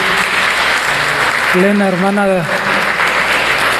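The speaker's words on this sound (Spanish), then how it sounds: "Bienvenida, un aplauso" A church congregation claps steadily in welcome for a visitor, a sustained crowd of hands heard close, while someone speaks briefly over the middle of the applause.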